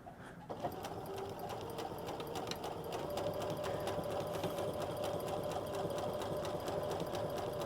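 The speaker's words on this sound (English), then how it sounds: "I'm just going to sew all the way around" A sewing machine running a steady continuous stitch around the double hem of a pull-on skirt, an even mechanical whir with a fine rapid needle rhythm, close and alone after a brief start.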